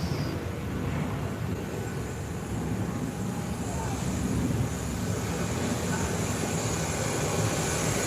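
An airliner lifting off from the runway, heard as a steady, broad engine roar that holds at an even level throughout with no other sounds over it.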